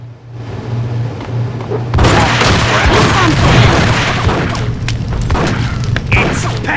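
A gunfight breaks out in the Max Payne video game, a heavy booming burst erupting after a quiet hum, followed by sustained loud crackling gunfire and scattered impacts.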